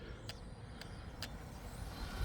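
A brushless front-wheel-drive MST TCR-FF RC car at full throttle on a speed run: a steady, fairly faint broadband rush with a few brief sharp whining bursts, and no talk.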